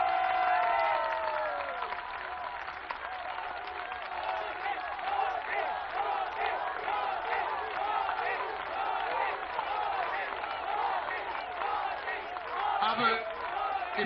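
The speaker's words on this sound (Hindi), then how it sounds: "सभी अपनी तरफ से जोरदार तालियां बजाकर प्रधानमंत्री जी का स्वागत" A large crowd at a Dussehra celebration in Delhi claps loudly and continuously to welcome Prime Minister Modi, a sustained wash of applause with cheering and voices mixed in.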